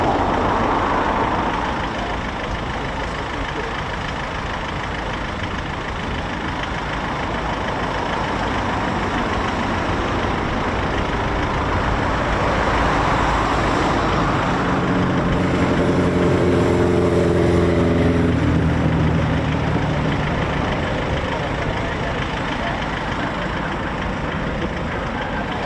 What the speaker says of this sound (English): Look at this. I've never seen one of these take-offs before. Here we go. Kawasaki C-2.